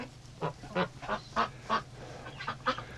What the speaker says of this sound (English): the amount of ducks that are inside today